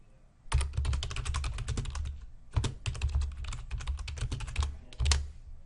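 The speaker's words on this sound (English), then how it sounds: "type in the text string" Rapid, close key clatter on a computer keyboard as a text string is typed in, in two long runs split by a short pause, with no voice over it.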